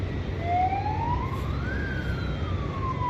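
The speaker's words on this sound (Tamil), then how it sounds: "நான் இங்கே ஏதோ போலீஸ் ஜீப்பெல்லாம் வருது, ஏதோ பிரச்சனை போல்." A police jeep siren wails with rising and falling sweeps amid heavy traffic near the Atal Tunnel in snowy mountains, loud and close over a steady low rumble of vehicles.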